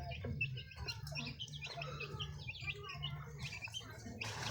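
Young chicks chirping continuously in a busy, overlapping chorus of high tweets while being fed crushed termite nests, fairly quiet and close by.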